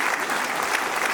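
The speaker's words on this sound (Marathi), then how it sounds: "मानपत्राच्या पूर्वी आपण एकदा सर्वांनी टाळ्या वाजवून त्यांचं स्वागत केलं पाहिजे" Audience applause at an honouring ceremony in Nagpur welcomes an honoured author: a dense, steady wash of many hands clapping together, loud and continuous throughout with no voices over it.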